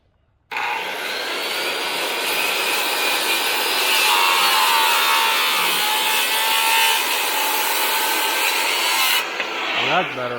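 A saw fitted with a Diablo blade cuts steadily through wood, a loud, continuous rasping whine that starts abruptly, holds for about nine seconds and then cuts off as the motor spins down.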